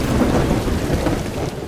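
Heavy rain pours on a dark night road while thunder rumbles, a dense, loud, unbroken roar of rain with low thunder underneath.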